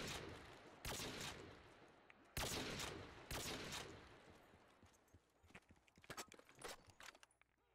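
Bursts of gunfire in Black Ops 3 Zombies on the Rust map, loud rapid volleys with gaps between them and shorter scattered shots toward the end.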